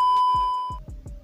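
A notification bell sound effect rings as a clear, sustained electronic chime, followed by a quick series of three or four short, plucky tones that fade, loud and close with no speech.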